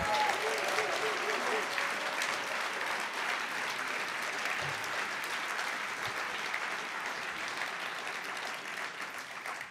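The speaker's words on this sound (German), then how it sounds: "Applaus" Audience at a symposium breaks into sustained applause, a dense wash of clapping that stays steady for several seconds before easing slightly near the end.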